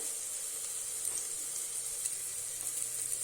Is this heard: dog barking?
no